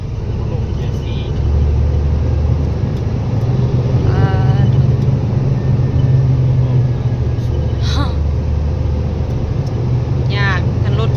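An old, heavily loaded truck coming down a hill in low fourth gear, its engine giving a loud continuous low rumble throughout, with voices talking over it now and then.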